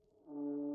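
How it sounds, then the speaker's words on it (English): A loud honking alarm horn in the game Pillars of Eternity 2: Deadfire, warning of approaching guards; a single sustained low blast that swells in and holds steady. "That loud honking horn be meaning we've got a fight on our hands, folks."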